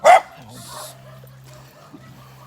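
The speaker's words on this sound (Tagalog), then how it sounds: "May aso lang." A dog in a rural village in Tiaong, Quezon province gives a single sharp, loud bark close by, followed by a low whine and faint background noise.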